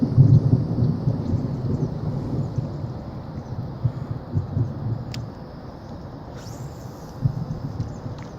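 Thunder rolling from a nearby thunderstorm with lightning, heard outdoors by water during bass fishing: a low, sustained rumble that swells and fades across the whole stretch, with faint wind noise and no talking.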